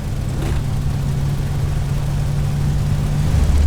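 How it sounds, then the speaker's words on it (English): A Spitfire engine in the A2A Accu-Sim flight simulator runs with a coarse-pitch propeller, a steady, loud, low droning hum that stays constant throughout. "What you are seeing and hearing is the increase of drag from the coarser pitch of that propeller."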